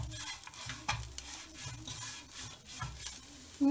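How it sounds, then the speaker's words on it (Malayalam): Spoon stirring an egg biryani mixture seasoned with garam masala and salt in a pan, irregular scraping strokes over a soft sizzle, close and quiet, with no talk. "നന്നായി മിക്സ് ചെയ്യാം."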